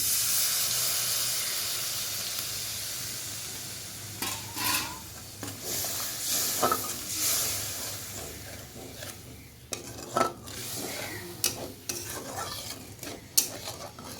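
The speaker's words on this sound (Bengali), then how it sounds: "এবার দিয়ে দেবো জলটা জল দিয়ে দেবো" Water goes into a hot pan of fried spices for a pointed gourd dolma curry, setting off a long hissing sizzle that settles into a steamy bubbling, with scattered scrapes and knocks of stirring.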